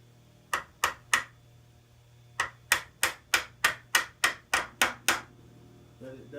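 A hammer taps a stuck clutch cover off its dowels on a 1986-1989 Moto-4 engine: three sharp, close knocks, a pause, then nine evenly spaced blows in quick rhythm.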